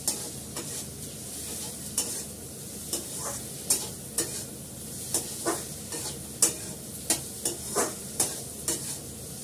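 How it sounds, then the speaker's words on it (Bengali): Spiced curry stir-fried in oil, with a ladle scraping the pan in regular strokes about once a second over a constant sizzle, close and loud, no talking. "ভালো করে কষাতে কষাতে তেলটা ছেড়ে দেবে"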